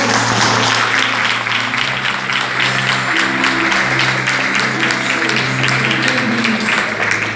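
A church congregation applauds at a theological conference, with steady clapping running over sustained musical tones for several seconds.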